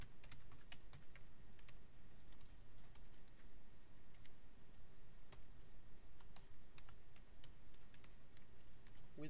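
Quiet typing on a computer keyboard while entering JavaScript code, a steady stream of light, close key taps with small pauses over a low background hiss.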